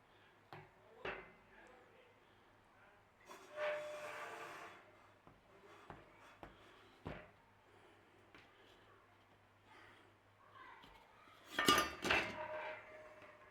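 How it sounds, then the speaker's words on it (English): A metal baking tin for a cornflake tart is knocked and clattered in a kitchen. Several sharp clinks and bangs come through near and fairly quiet, with a louder metallic rattle near the end, and no talking. "to help this cool down, I think we just need to be popping this tin."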